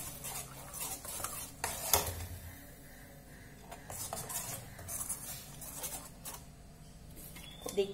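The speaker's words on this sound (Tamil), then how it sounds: "நல்ல ஒரு கிளறு விடுவோம்." A utensil scrapes and stirs beetroot pachadi in a pan, with soft clinks of metal and a light sizzle underneath, close and fairly quiet.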